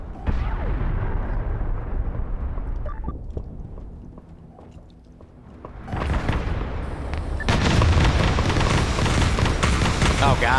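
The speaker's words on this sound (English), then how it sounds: "Someone's spamming missiles." Missiles exploding on a custom map in a Space Marines game with Black Templar troops, rumbling blasts and crackling bursts that fade and then swell into a dense, loud barrage, with a player talking in the mix.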